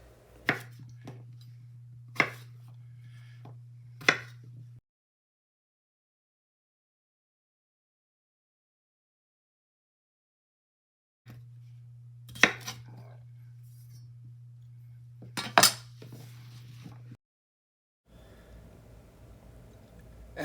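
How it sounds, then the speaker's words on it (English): Knife chopping potatoes into bite-sized pieces on a board for beef stew: a few sharp, spaced knocks over a steady low hum, a long silent gap, then a few more knocks. "I'll just chop them up into a nice bite-sized piece"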